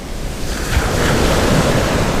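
Waves of the Aegean Sea wash onto a beach in a continuous loud rush of surf, close by, with wind buffeting the microphone and no talking.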